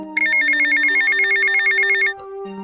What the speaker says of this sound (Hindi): तभी उसके मोबाइल पर एक कॉल आता है।